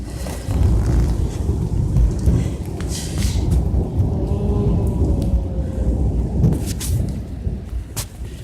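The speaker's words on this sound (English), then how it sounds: "That's what you call rolling thunder." Rolling thunder from a thunderstorm rumbles low and continuously, a deep sustained roar that swells and fades slightly, with faint rain-like hiss above it and no speech.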